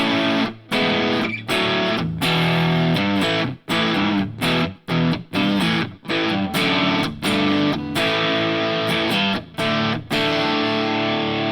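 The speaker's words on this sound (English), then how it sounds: "The lighter blue is kind of a full distortion. I'd use this one for chords." Loud electric guitar chords on a smart guitar's full-distortion setting, strummed in a rhythmic pattern with brief choppy gaps between the strums.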